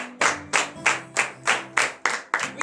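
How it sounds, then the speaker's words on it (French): Sharp, evenly spaced claps of applause at a morning prayer service in Benin ring out in a steady rhythm, about three per second, close and loud, fading slightly between each. "je vous demande de l'applaudir très fort ce matin"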